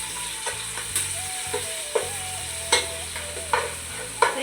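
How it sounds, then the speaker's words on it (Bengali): Ginger garlic paste fries in a pan, crackling steadily while a utensil scrapes and taps the metal in a loose rhythm of repeated strokes, close and fairly loud. "দুই চা চামচ আদা রসুন বাটা দিয়ে দিলাম।"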